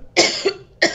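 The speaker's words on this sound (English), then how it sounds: "I have to cough." A single sharp cough bursts out, followed by a quieter trailing catch and then a second cough near the end, close and loud with no talking.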